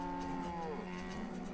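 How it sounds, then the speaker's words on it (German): Cows in the colony-building game Banished moo in overlapping drawn-out calls, their tones bending and sliding, fairly quiet and steady with no talk. "Die ganzen Kühe hier, ey."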